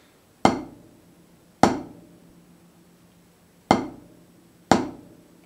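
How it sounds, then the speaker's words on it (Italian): Four sharp drumstick strikes on a drum head, two pairs of double strokes, each a crisp attack with a short decaying ring, close and loud with silence between them. "Questo è il colpo, il doppio colpo, quello più conosciuto."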